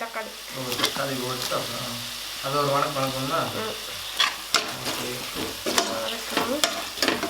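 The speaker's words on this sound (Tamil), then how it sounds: "இஞ்சி பூண்டு பேஸ்ட் போட்டு நல்லா வதங்கிடுச்சு பாருங்க" Ginger garlic paste sautés in a pan while being stirred, a continuous close sizzle with scraping stir strokes, and a voice speaking over the frying in the middle.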